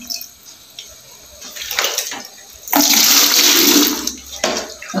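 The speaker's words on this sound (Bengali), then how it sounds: "একটু সাবান দিয়ে আবার ভালো করে একটু ধুতে হবে" Tap water runs while a dirty bowl is washed, rushing in loud uneven bursts that swell, cut off and return close by.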